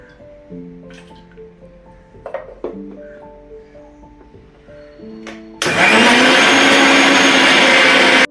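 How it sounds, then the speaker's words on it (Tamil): Mixer grinder jar blending peeled cooked tomatoes with a little water: after a few quiet clinks and handling knocks, the motor bursts on loud, steady and whirring until the end. "இப்போ டொமேட்டோ ஸ்கின்னை பீல் பண்ணி எடுத்தோடனே மிக்ஸி ஜாரில் போட்டு நல்லா பிளெண்ட் பண்ணி எடுத்துக்கலாம்."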